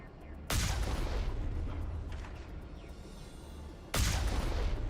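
Gunfire in Mass Effect: Legendary Edition comes as two heavy booming blasts, each with a sharp attack, set several seconds apart over a steady low rumble of game noise.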